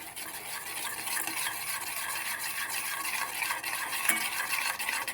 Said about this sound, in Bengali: দিয়ে আমি নাড়াচ্ছি, দেখতে পাচ্ছ